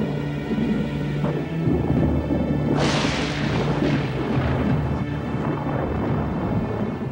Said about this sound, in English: Lightning strikes a tree in the wild